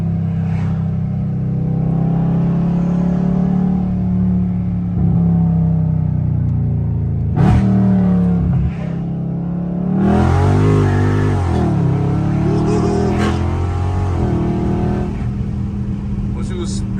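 A catless Dodge Charger Scat Pack V8 roars loudly from inside the cabin, rising through hard pulls and dropping on sharp downshifts, with short blips and heavy rumble between, and no talking over it.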